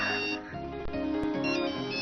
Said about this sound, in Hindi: हाँ मेरा मोबाइल बज रहा है